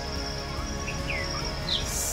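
Small birds chirp in trees at dawn: a few thin, high chirps and brief trills come from a short distance over a steady low hum and faint insect-like buzzing, with no talk.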